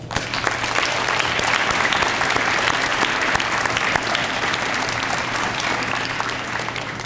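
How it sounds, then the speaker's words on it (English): A sustained round of applause from a crowd of children at a Veterans Day ceremony, steady and dense clapping for several seconds, with a faint low hum underneath. "Give yourself a round of applause."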